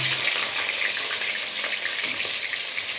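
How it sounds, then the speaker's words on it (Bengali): Pumpkin pieces drop into hot oil in a pan and fry with a steady, dense sizzle that stays loud and even throughout, with no talking. "এই দেখো আমি কুমড়োর পিসগুলো ছেড়ে দিলাম।"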